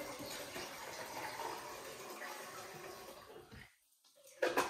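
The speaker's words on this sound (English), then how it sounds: "So you simply just lift the cover and you pour it right on in." Water poured from above into the top-fill tank of a Gaggia espresso machine, a steady splashing rush for several seconds that briefly drops away before a short final trickle.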